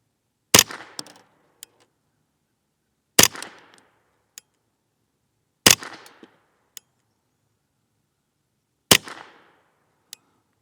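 Four sharp, echoing reports from a Ruger 10/22 rifle firing CCI standard ammunition, each spaced a few seconds apart and followed by a faint mechanical click in otherwise quiet surroundings.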